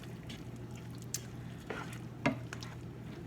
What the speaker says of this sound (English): I'll just kind of start mixing it in